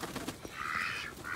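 Ducks let out of their shed into winter snow quack nearby in short raspy calls, with a longer honking call running through the middle, and faint soft rustles of flapping wings.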